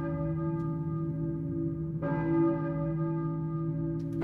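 A church bell rings in the Silent Hill video game, sounding as a sustained, resonant toll that decays slowly and is then struck again about midway through.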